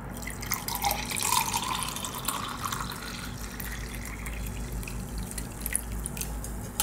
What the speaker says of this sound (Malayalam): നമ്മുടെ നാരങ്ങ വെള്ളം ഒഴിച്ച് കൊടുക്കാം